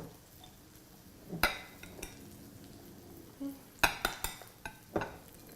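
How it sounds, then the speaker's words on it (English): A cup of black beans is scooped, giving a series of close scraping and clattering knocks in uneven bursts against a quiet background. "I'm going to scoop out about a cup of black beans"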